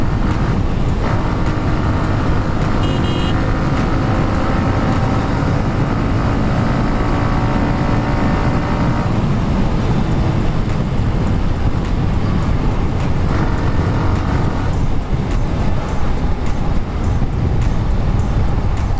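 Hero Xtreme 125R motorcycle accelerating hard and then downshifting aggressively, its engine note loud and continuous with wind and road noise throughout, pitch climbing and dropping as gears change.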